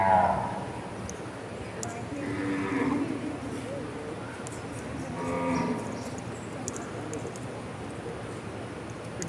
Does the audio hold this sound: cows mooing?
yes